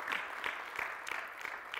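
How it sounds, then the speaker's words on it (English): A church congregation claps along at a fasting and prayer service, a steady rhythmic beat of about three claps per second, soft and somewhat distant, with no speech over it. "Clap for the Lord for his grace."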